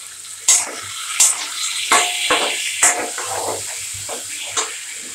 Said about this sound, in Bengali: ধুয়ে পরিষ্কার করে নিচ্ছি